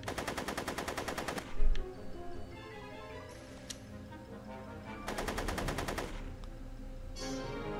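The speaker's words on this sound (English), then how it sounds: "Are you shooting at me?" Rapid machine-gun fire rattles in two sustained bursts in the Back to the Future video game, with game music and ambience continuing between the volleys.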